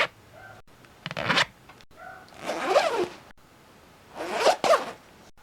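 Clothing zipper zipped repeatedly in quick bursts, several sharp rasping strokes separated by brief pauses, close and clear with no talking.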